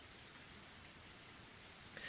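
Heavy pouring rain from the Higurashi: When They Cry video game, a dense, even hiss of downpour drumming on surfaces, constant throughout and heard alone.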